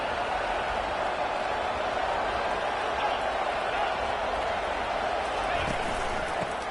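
A simulated college football stadium crowd at a USF versus UConn game in a football video game makes a steady, unbroken din of cheering and clapping, filling the background evenly from start to finish.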